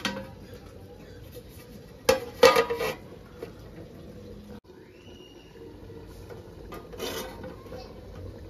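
A spoon scrapes and clinks against a pot while green chicken curry is stirred, a few short bursts of scraping over a quiet background hum.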